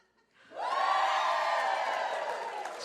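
Live audience cheering at a podcast taping in Boise, a sudden swell of whoops and shouts that holds loud and steady for a couple of seconds.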